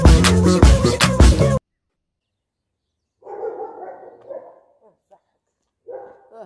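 A dog barks and yips in short bursts after a brief stretch of music and a silent gap, with a few fainter whimpers in between.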